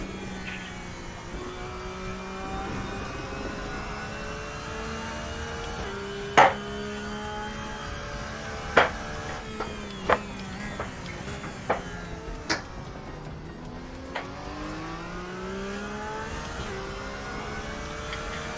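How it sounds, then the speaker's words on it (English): A Porsche GT3 race car in the RaceRoom racing game, its engine rising and falling through gear shifts with steady revving tones and several sharp pops, heard continuously from onboard for a long stretch. "I'm still in love with this GT3 Porsche. Looks great, sounds great,"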